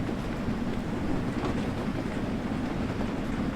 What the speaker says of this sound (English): We got ourselves another train to our right.